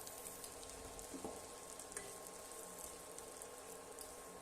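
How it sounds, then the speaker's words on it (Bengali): Sliced onion fries in hot oil in a pan, giving a steady, soft sizzle with faint crackles and a brief stir of the spoon, heard alone without voices. "এবার পেঁয়াজটা হালকা ব্রাউন করে ফ্রাই করে নেব।"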